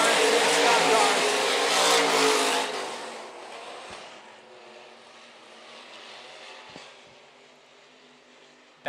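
IMCA stock cars racing at Phillips County Raceway, a loud roaring pack of engines sweeping past that fades into distant rumble after a few seconds.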